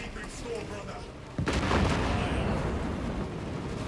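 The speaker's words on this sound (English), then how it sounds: "Mortar fire." Mortar fire sounds in Warhammer 40K Space Marine 2: a sudden heavy boom lands midway through a murmuring battle backdrop, followed by sustained rumbling blasts and crackle that stay loud to the end.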